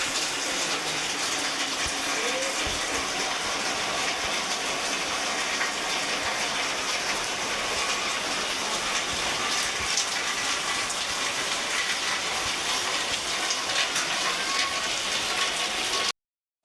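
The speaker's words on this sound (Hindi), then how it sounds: "कितनी भयंकर बारिश शुरू हो चुकी है" Heavy rain pours steadily over fields, a dense, constant hiss of falling water that stays even from start to finish.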